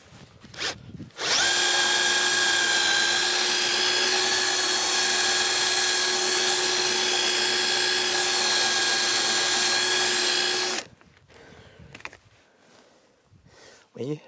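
A power drill bores steadily into a part of the electric convertible top on a BMW E36 320i, one loud continuous whine with a strong tonal pitch lasting about nine seconds, then stopping, with brief handling noises and speech before and after.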